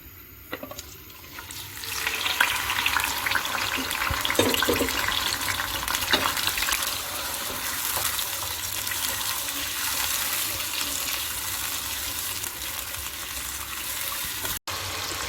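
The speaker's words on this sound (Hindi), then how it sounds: "ऑयल को गरम करेंगे, मैरिनेट किया हुआ चिकन डालेंगे, तेज आंच पर 4 से 5 मिनट चिकन को फ्राई करेंगे" Marinated chicken for karahi fries in hot oil over a high flame, giving a loud, steady, broadband sizzle that runs continuously for about fifteen seconds with no talking.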